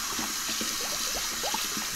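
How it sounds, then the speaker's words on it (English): Tap water runs steadily into a sink while a tie-dye shirt is rinsed, a continuous close splashing rush with small irregular gurgles and drips throughout. "Good and rinse that in here."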